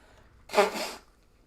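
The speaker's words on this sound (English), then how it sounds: "now all of a sudden I'm sneezing everywhere" A single short, sharp sneeze bursts out once, close and fairly loud, during a live baseball play-by-play broadcast.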